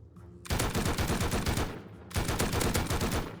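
Automatic gunfire in the video game Rust: two long rapid bursts of shots, close and loud, separated by a brief pause, with no talking over them.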